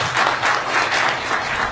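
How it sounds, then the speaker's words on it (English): An audience at a political summit at Stanford University applauds to welcome a speaker, a continuous, close, full wash of many hands clapping with no voices over it. "let us welcome him with a round of applause"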